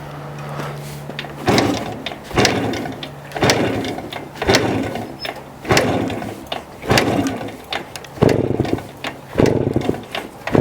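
A 1972 Hodaka Wombat 125 motorcycle that sat since the 1980s runs roughly, its engine surging in repeated loud bursts about once a second with dips between, close and alone.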